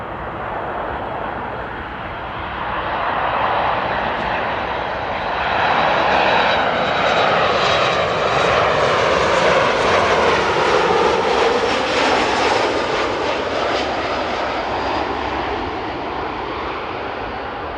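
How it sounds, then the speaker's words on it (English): Jet engines of a Chinese Boeing 777 cargo plane spool up at Amsterdam airport, a loud sustained roar and whine that swells and holds, heard from some distance without talk. "we're going to follow the Chinese 777 cargo, which is starting up its engines at the moment"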